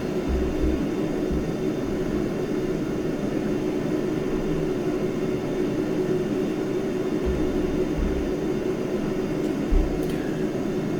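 JF-17 jet in the DCS flight simulator, its engine giving a steady broadband roar with a low rumble that holds evenly throughout, heard alone with no voices.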